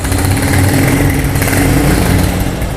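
An old Honda GL Pro motorcycle idles close by, its new original exhaust putting out a loud, steady, throbbing rumble with no pauses.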